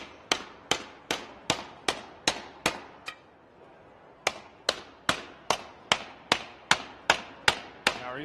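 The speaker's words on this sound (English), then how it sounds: "are you starting to hammer out some of those ridges already?" Ridges in sheet metal are hammered out in a fabrication garage: sharp, loud, evenly spaced blows ring one after another, pause briefly, then resume at the same steady pace.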